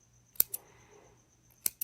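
Scissors snip through loops of crochet yarn in two pairs of sharp, close cuts, with a quiet pause between the pairs.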